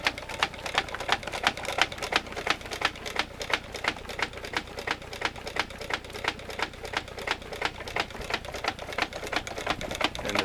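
A heavy rubber valve flap on a homemade bellows dry washer for gold clicks open and shut in a fast, steady rhythm, a long even series of sharp ticks at moderate distance with no talking.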